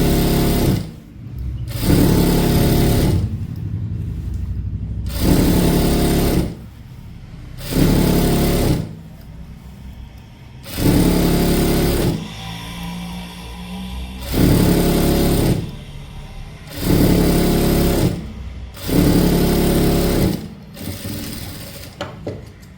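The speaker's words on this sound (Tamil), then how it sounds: "அப்படியே திருப்பி டபுள் ஸ்டிச்சுங்க. அது மேலேயே அந்த தையல் மேலேயே" Sewing machine double stitching along a churidar pant seam, loud and close, running in repeated bursts of rapid mechanical whirring, roughly nine runs separated by brief pauses and softer handling sounds.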